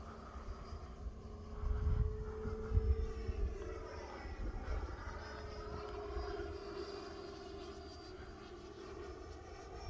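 An E-flite Viper 90mm electric ducted-fan RC jet flying overhead: a steady whine that shifts pitch as it swoops past, moderately distant over faint wind rumble and low background noise.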